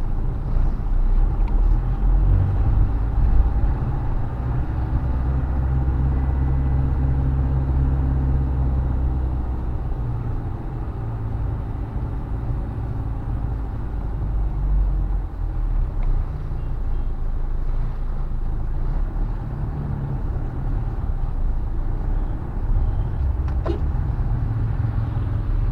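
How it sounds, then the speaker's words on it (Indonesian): Inside a 2003 Isuzu Panther capsule on the road in the afternoon, the engine gives a steady, smooth low rumble with road noise, constant throughout and with no talking. "Kita bisa lihat bagaimana halusnya mesin mobil ini."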